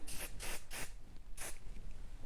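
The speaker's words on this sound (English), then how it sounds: "I'm gonna just spray lightly with my hairspray." Regular hairspray from an aerosol can is misted lightly onto a section of hair being set for vintage curls, four short close hissing bursts, three in quick succession then one more after a pause.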